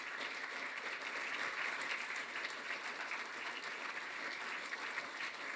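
Steady, sustained applause from a conference audience at the FiRe 2017 event after a healthcare talk, a dense even wash of many hands clapping at moderate level throughout without pause.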